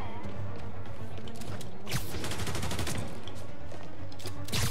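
Bursts of enemy gunfire in Spider-Man Remastered, a loud rapid volley of shots crackling over a steady low rumble of game ambience, with no talk.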